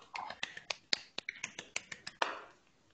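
Sparse, faint clapping at a conference talk session, around a dozen sharp claps at a quick, even pace from one or two people, then it trails off.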